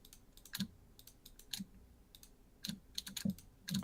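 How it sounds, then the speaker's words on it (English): Rhythmic clicking on a computer keyboard during a game session, quiet and close, with sharp taps coming in small irregular bursts and short pauses between them. "Sounds like you got the clicking rhythm down though, like the bop bop bop bop."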